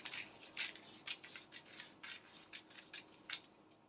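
Scissors cut through fabric for a princess-dart wrap top, a quiet close series of about a dozen crisp snips in a steady rhythm with no voice.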